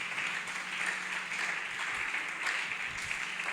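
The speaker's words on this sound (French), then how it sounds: "Acclamons très fort le Seigneur Jésus." A church congregation applauds loudly and steadily, a dense continuous wash of clapping filling the hall.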